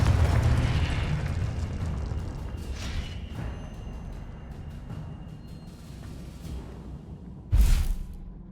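A Confringo blasting spell explodes in Hogwarts Legacy, a deep rumbling blast that slowly fades over several seconds, followed by a sharp, loud burst near the end.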